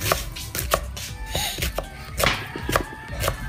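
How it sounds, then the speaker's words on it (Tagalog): A knife slices onions on a cutting board, a close series of crisp, uneven chopping knocks repeating about every half second, with no talking. "gagayatin natin ng sibuyas"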